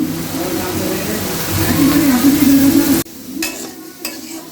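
Flower fritters fry in oil in a pan with a loud, dense sizzle for about three seconds while someone talks over it. The sizzle then cuts off abruptly, leaving a quieter background with a few light knocks.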